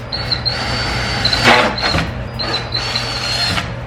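A power drill whines in short bursts, stopping and restarting several times, close by with a steady motor hum underneath, drilling a small pilot hole with a small bit in a 2016-2019 Toyota Tacoma.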